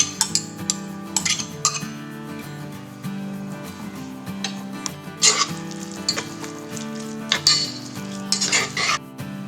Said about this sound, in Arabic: غادي نضيف داك الثوم اللي قطعته رقيق، وغادي نخليهم يتشحروا مع بعضياتهم.